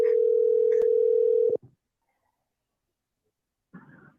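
A steady telephone dial tone hums loudly for about one and a half seconds before a click cuts it off, followed by silence and then a faint voice.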